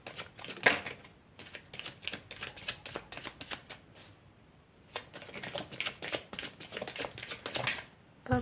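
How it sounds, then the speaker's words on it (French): Tarot cards are shuffled and drawn in a quiet room: close, crisp riffling and flicking in quick bursts, a brief pause, then more rapid card handling. "Je vais tirer une autre carte."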